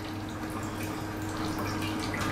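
Water trickles and drips steadily from the outlet of a 3 kW continuous alcohol distiller, a constant close hiss with a faint hum underneath and no voices.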